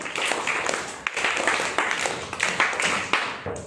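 A group gathered for a school prayer and poem activity claps together, a dense burst of hand claps swelling and fading in waves, fairly close and moderately loud, with no talk over it.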